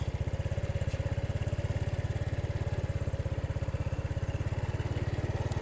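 A vehicle engine running while driving slowly past flooded rice fields, chugging in a fast, even, low throb that stays steady and fairly close throughout, with no talking.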